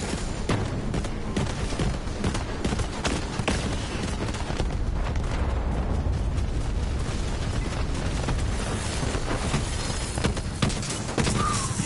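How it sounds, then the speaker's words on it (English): Rockets fire and explode in a PS4 shooter game, a dense, continuous barrage of booms and blasts filling the whole stretch at a loud, steady level with no pauses. "It's firing fucking rockets at my ass!"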